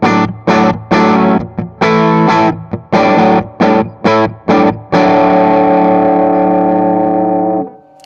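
Electric guitar through a Mesa/Boogie California Tweed 6V6 4:Forty head on its higher-headroom clean channel: loud rhythmic strummed chords in choppy bursts, then one sustained chord ringing out and fading.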